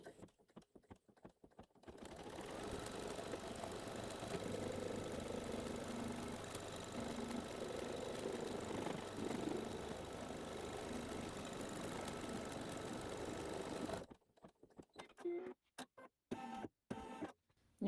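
A sewing or embroidery machine stitches a tack-down line on wall fabric for a Haunted House quilt block, a steady, fast mechanical whir and clatter running for about twelve seconds before cutting off into near silence.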